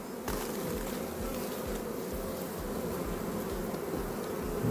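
Honeybees buzz steadily and close around hive frames with queens, a dense continuous hum with low droning tones and no voices.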